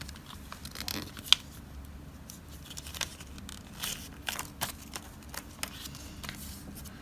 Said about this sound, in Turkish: kağıdımı ortadan ikiye katlayarak bir üçgen elde ediyorum